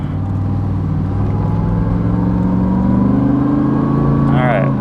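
A 1988 Pontiac Trans Am GTA pulls hard through its gears, a loud, steady engine drone climbing in pitch from inside the cabin, with a voice talking over it.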